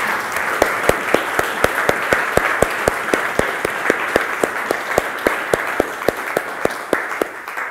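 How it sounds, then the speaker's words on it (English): An audience at a Perl programming talk applauds the mentors, with sharp, evenly spaced hand claps standing out over a steady bed of applause, no talking. "now please clap them"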